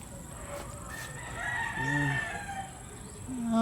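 Rooster crowing somewhere outdoors in Butuan, Philippines: one drawn-out cock-a-doodle-doo rising and falling at middle distance over steady background noise, with a few clucks around it.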